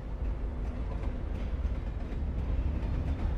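Train in the video game Alan Wake rumbles past, a deep continuous low-frequency roar with rattling rhythmic clatter, steady and fairly loud for a few seconds with no talk.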